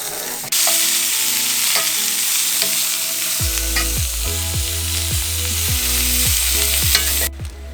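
Peppers for fajitas hit a hot pan at an outdoor overland camp, setting off a sudden loud hiss that holds as a steady sizzle with a few scraping stirs, over a low background hum and no talking.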